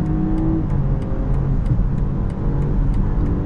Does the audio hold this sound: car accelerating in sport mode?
yes